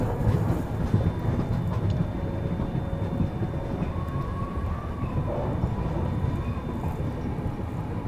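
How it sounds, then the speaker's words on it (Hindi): A passenger express train arrives at Kanth station, heard from on board as a steady, loud rumble and rattle of the carriages with a faint whine on top and no talk. "कांठ ट्रेन अपनी जो है कांठ अराइव कर रही है"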